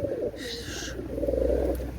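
A racing pigeon gives a soft, close coo over low background hum, a single short call with no talking.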